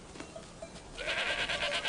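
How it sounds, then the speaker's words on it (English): Rove goats, an endangered French breed herded outdoors in Provence, bleat together in a dense, wavering chorus that swells after a quieter start, moderately near over steady outdoor background. "It is the Rove goat, an endangered breed."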